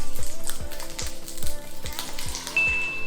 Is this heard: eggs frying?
yes